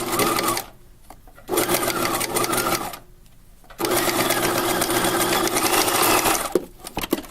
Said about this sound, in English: Now you're going to stitch the corner, back stitching at both ends.